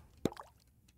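Liquid poured into a mug in the video game Ale and Tale Tavern gives a single sharp, close plop, followed by a brief soft gurgle and another faint drop at the end.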